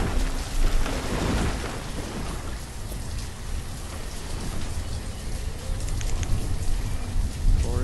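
Steady rainfall across a village in the city-building game Banished, a dense continuous wash of rain with low rumbling thunder rolling underneath throughout.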